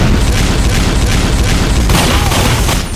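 Gunfire and explosions in Team Fortress 2 pounded at an enemy sentry gun, a dense, continuous roar of booms and bursts that stays loud and close throughout, with no talk.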